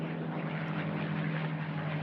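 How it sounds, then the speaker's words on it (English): A rare Bell P-63 King Cobra racing airplane flies at an unlimited-class air race, its propeller engine a steady droning roar with a strong low hum. "one of the rare Bell P-63 King Cobras"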